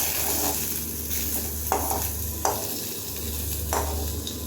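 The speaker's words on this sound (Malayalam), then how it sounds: "അപ്പോൾ ഇഞ്ചിയും വെളുത്തുള്ളി ഇട്ടിട്ടുണ്ട്. നമുക്ക് ഇത് മിക്സ് ചെയ്യാം." Ginger and garlic frying in a pan while being stirred for a fish biryani, a constant loud sizzle with a few distinct scrapes of the spoon against the pan.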